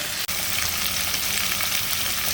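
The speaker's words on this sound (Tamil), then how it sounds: "தக்காளி சேர்த்துட்டு இதையும் நல்லா வதக்கணும்." Onions and tomatoes sauté in a pan for a chicken kulambu, giving a steady, close sizzle and crackle of frying with a brief stir partway through and no voices.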